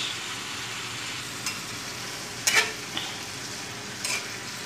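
Bamboo shoot adobo with sweet soy sauce sizzling in a pan, a steady frying hiss with a few sharp scrapes and clinks of the utensil as it is stirred.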